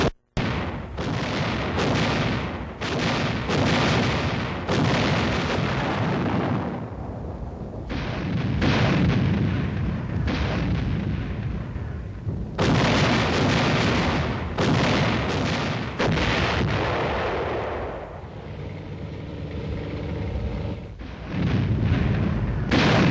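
Field artillery guns firing in a sustained barrage, loud booming blasts and heavy rumbling that come in dense bursts, with brief lulls between volleys.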